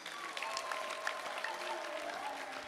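A church congregation clapping during worship, steady, dense applause from a crowd, moderately distant, with faint voices beneath.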